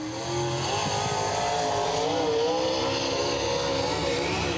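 Race car engine roaring at full throttle as it blasts into turn three during qualifying at Wartburg Speedway, a loud, steady high-revving drone that holds throughout, with a faint announcer voice underneath.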